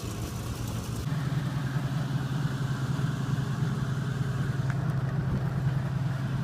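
An Oldsmobile Delta 88 engine idles steadily with a low, rough, sputtering rumble from a leaking exhaust, close and constant, no voices.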